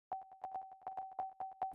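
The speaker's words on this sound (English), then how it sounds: "I have this DS Clang thingy. And let me quickly turn off all the effects so we can hear it solo." Ableton DS Clang drum synth played solo with effects off, a rapid metallic tonal hit repeated about a dozen times in a steady pattern, clean and dry with no voices.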